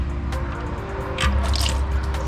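Engine oil drains from a Jeep Wrangler JK V6 during an oil change, dripping and splashing into a pan in a soft, steady trickle that grows slightly louder partway through.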